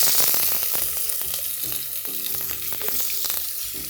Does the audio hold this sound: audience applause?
no